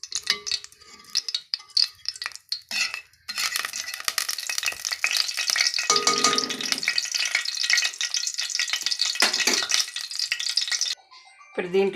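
Oil and ghee heat in a pressure cooker on a home stove while cooking haleem, giving a loud, continuous close sizzle with stirring and clinks, and a voice talks briefly.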